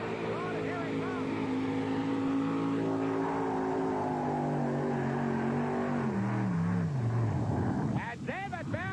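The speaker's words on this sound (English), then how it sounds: "Here comes the 6 Chevrolet off the line. Bringing up that front end." A modified Chevrolet pulling tractor at a tractor pull in Atco, New Jersey, roars off the line with a loud, sustained engine whine that slides downward in pitch as it bogs under load, then a harsh revving burst near the end.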